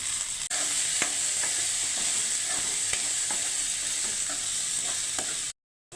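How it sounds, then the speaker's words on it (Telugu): Onion pieces frying in a pan: a steady soft sizzle with scattered light stirring scrapes, ending in a short moment of silence. "ఉల్లిపాయ ముక్కలు కొంచెం వేగాలి"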